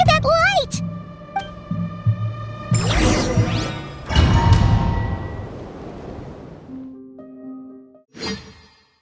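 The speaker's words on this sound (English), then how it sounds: "Who fired up the cannon without my say-so?" A cannon fires in the video game Genshin Impact, with heavy booming impacts, crashes and whooshes over game music and sound effects, while a character's voice speaks at points.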